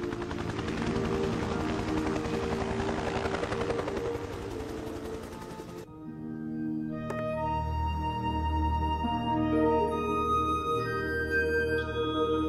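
Military helicopter sound honoring veterans of a helicopter war: a steady loud rotor thump with a dense wash of noise, then a cut to a lower, more tonal rotor drone and engine whine for the remainder.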